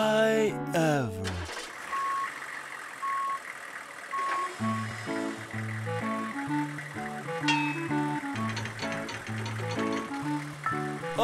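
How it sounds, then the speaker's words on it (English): Repeated electronic reversing beeps from a giant cartoon tow truck, steady tones sounding over a bright, busy musical score with a voice talking near the start. "Morph into a giant tow truck!"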